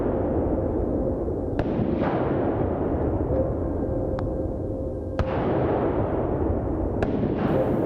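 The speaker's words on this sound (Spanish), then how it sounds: "Nuestro amigo disparó hasta en 5 ocasiones, demostrando sobre el terreno la velocidad de recarga del SXR2 Pump" Five sharp shots from a Winchester SXR2 pump-action rifle crack out in quick succession during an outdoor wild boar drive hunt, each report distant and echoing over a steady background hiss.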